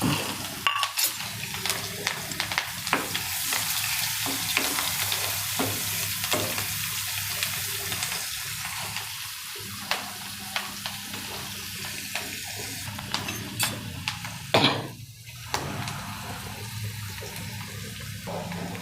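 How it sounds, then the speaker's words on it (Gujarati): Onions frying in oil with curry leaves and a pinch of asafoetida, a soft, continuous sizzle punctuated by scattered clicks and scrapes of stirring; no voices. "પહેલાં આપણે કાંદાને વગર દઈશું"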